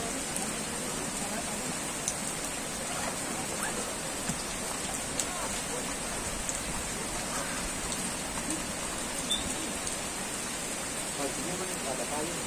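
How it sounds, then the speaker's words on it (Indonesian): Steady, heavy rain hissing continuously on a surface at a football field, close and loud, with scattered drips; a voice is faintly present beneath it. "Kalau hujan"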